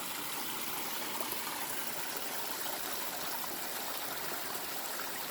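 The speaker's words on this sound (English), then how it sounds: "Nice flowing stream, but no thanks." Mountain stream on the Appalachian Trail flowing steadily, a continuous broadband rush and trickle of water heard alone throughout, fairly soft and even.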